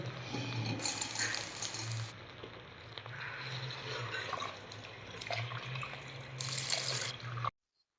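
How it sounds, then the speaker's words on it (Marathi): Water is poured into a pot of rice and masala for masale bhat, a continuous splashing pour with two louder surges, ending abruptly. "आता पाणी टाकून घेऊ"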